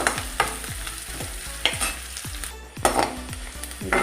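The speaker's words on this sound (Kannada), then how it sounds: "ಈರುಳ್ಳಿ ಫ್ರೈ ಆಗ್ತಾ ಉಂಟು." Sliced onions fry in oil in a pan for a Mangalore-style chicken curry, hissing steadily while a spoon scrapes and stirs in regular strokes. Close and fairly quiet, with no talking.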